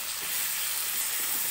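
Garlic and ginger paste sizzles steadily in a hot pan, with a few soft scraping strokes as it is stirred; a constant close frying hiss throughout.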